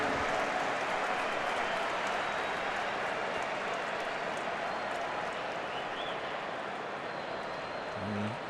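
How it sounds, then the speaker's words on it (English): A large crowd of Arsenal supporters applauds in a football stadium during a match against Barcelona, a broad, distant wash of clapping and crowd noise that holds steady throughout. "warm applause from a large contingent of Arsenal supporters for the skipper"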